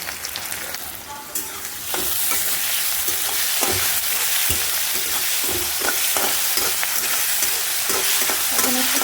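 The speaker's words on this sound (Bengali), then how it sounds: "দেখো পেঁয়াজটা ভাজা ভাজা হয়ে গেল প্রায়" Onion frying with garlic and ginger in hot oil, a steady loud sizzle broken by repeated scraping stirs of a spoon against the pan, close and continuous.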